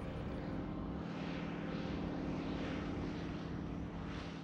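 A Stearman biplane, built with a late-1930s engine and a 1940s airframe, drones in flight with a steady, loud propeller and radial engine roar that holds a constant throbbing rhythm throughout.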